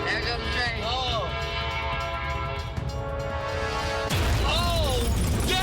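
A train passes close by with a loud, continuous rumble while its horn sounds in bending blasts, the horn swelling louder near the end; voices react over the noise.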